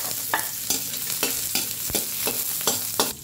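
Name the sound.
garlic sautéing in cooking oil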